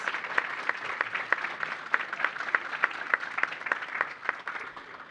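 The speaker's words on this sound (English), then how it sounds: "Let's give all of our student innovators a big round of applause." An audience claps for student innovators at a school innovation competition finals, a steady, fairly quiet patter of applause lasting several seconds from a modest crowd in a hall.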